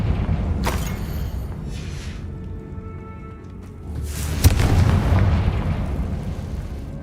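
Confringo blasting spell detonating inside a tomb in Hogwarts Legacy, two heavy booming explosions a few seconds apart, each with a sharp crack followed by a rumbling, decaying roar.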